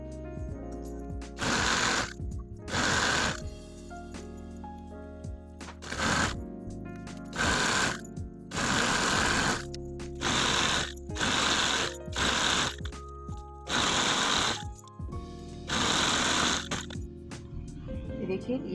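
Sewing machine stitching trousers, running in about ten short, loud bursts separated by brief pauses, close up, with a voice speaking in the gaps between runs.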